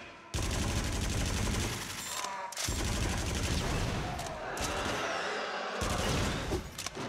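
Rapid bursts of gunfire from the horror rail-shooter game Until Dawn: Rush of Blood, loud sustained volleys broken by short gaps, in near-continuous automatic fire.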